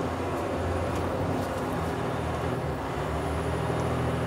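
A 2017 Volvo A60H articulated dump truck holds its engine under throttle, a deep continuous diesel roar, loud and steady and close, with no talking over it.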